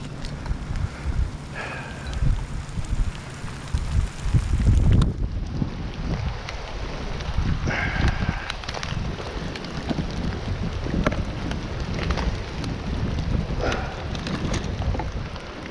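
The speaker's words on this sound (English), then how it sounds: "Here comes the rain." Rain sweeps in on gusting wind over open water while fishing, a steady rushing hiss with buffeting wind noise on the microphone and scattered patters, no voices.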